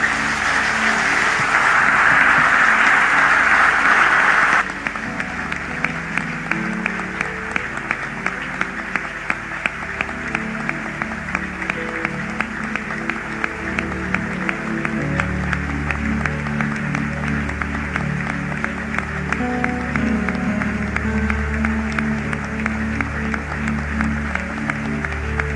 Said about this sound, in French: Pendant 1 minute, on va juste acclamer. We are just going to clap our hands.